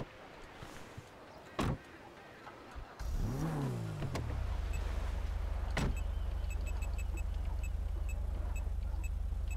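A car in GTA 5 starts up after a few thumps, its engine rising briefly and then settling into a steady low hum as it drives, with occasional sharp clicks.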